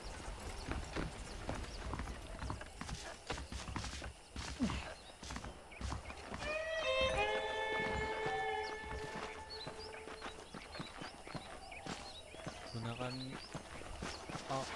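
Steady clip-clop of horse hooves walking in the video game Red Dead Redemption, with a horse whinnying partway through and a voice speaking over the hoofbeats.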